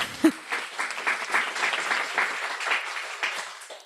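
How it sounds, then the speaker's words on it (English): Audience applause for two graduates at a Guiding Eyes guide dog campus graduation, a steady, even wash of clapping that sustains for several seconds after one sharp initial clap. "a special round of applause for Kayla and Michaela"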